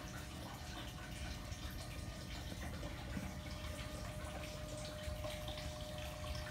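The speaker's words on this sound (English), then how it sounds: "as some of the water goes down the drain, it's dropping some of the sediment" Water trickling and flowing steadily through a sediment-filled stream table model, draining away at the river mouth, a continuous close gurgle and splash with no talking.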